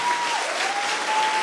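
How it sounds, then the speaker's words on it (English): Audience applause at a Christmas show in Detroit, a dense, even roar of many hands clapping, loud and sustained from start to finish. "a big round of applause?"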